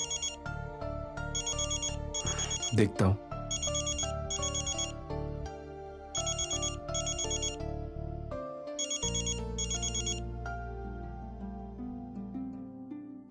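A telephone ringtone plays in a repeating melodic pattern indoors, with a brief voice speaking partway through before the ringing continues.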